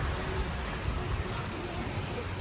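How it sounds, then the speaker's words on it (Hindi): Steady rain falls in a dense, even hiss with low patter in a Pakistani village, continuous and fairly faint, no voices over it. "अब जो है बारिश भी शुरू हो गई है"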